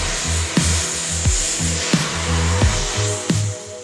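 A heat gun blows a steady, loud hissing roar while heating a suspension ball joint on an Infiniti G35. Low knocks recur roughly every half second beneath it.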